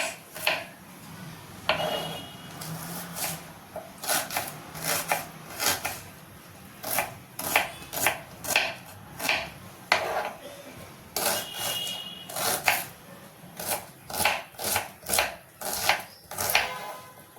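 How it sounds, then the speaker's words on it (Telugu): A knife chops okra into small pieces on a cutting board, a steady run of sharp, close taps in quick rhythmic bursts with brief pauses, with faint speech in the background. "బెండకాయలు ఇట్లా చిన్న చిన్నగా కోస్తానండి"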